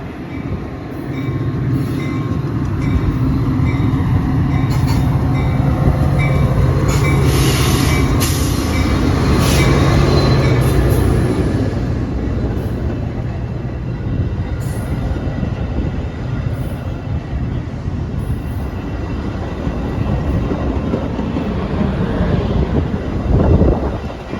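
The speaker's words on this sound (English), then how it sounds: "Here comes the train outbound from Chicago." A Metra commuter train, outbound from Chicago, rumbles loudly into a Wisconsin station, its heavy roar and squealing wheels filling the air, with gusts of wind buffeting the microphone.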